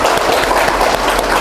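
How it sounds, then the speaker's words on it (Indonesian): Audience applause at an Indonesian talk show, a steady dense clapping that fills the short moment without pause. "kita berikan aplaus untuk beliau"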